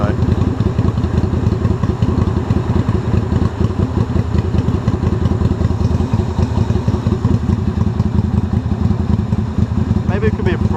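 A motorcycle engine runs steadily right after a jump start, a loud, close, continuous rumble with clattering and a few thumps, holding an even idle for about eleven seconds.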